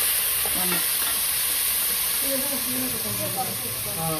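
Biryani masala with egg powder is stirred in a pot, a soft continuous sizzle and hiss with faint scraping, while voices talk intermittently over it.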